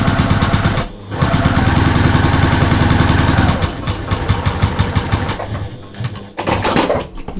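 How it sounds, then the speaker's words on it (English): A sewing machine stitching through layered quilt sashing, folded strip and block, runs as a loud steady mechanical whir with fast rhythmic needle pulses, slowing and pausing briefly before starting up again. "So just stitching down all the way through all of those layers"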